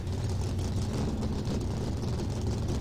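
Race car engines start and idle together in NASCAR Racing 2003, a dense, steady mechanical rumble with no breaks or clear revving peaks.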